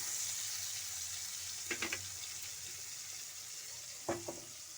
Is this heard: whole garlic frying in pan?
yes